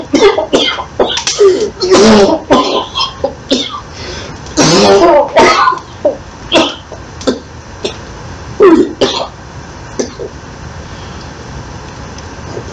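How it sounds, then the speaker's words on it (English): A man with a bad cough in a damp wine cellar: a series of harsh, uneven coughs and throat-clearing bursts, close and loud, coming in irregular fits with short pauses between them. "How long have you had that cough?"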